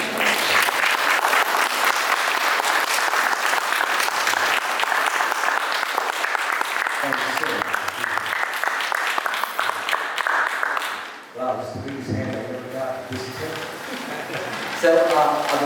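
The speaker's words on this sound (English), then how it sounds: "Looks like we got a little applause coming from you." Lecture audience breaks into sustained applause, dense and steady for most of the stretch, then thins toward the end as a voice speaks over the fading claps.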